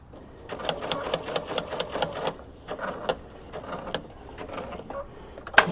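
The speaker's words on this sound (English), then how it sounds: "So I'm going to take this a little slower around the corner here so I can get this to feed around nicely" A sewing machine zigzag-stitches a fabric penguin play mat in rapid uneven bursts of needle chatter, close and moderately loud, with brief pauses between runs as the fabric is fed around a corner.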